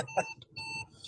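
A car's seatbelt warning chimes with a repeating electronic beep from inside the cabin, steady tones pulsing under quiet cabin noise and a brief voice.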